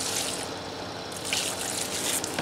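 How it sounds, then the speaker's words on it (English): Water splashes and trickles steadily into a plastic bag, with crinkly bursts as the stream shifts, close by and moderately loud. "I'm going to add some water."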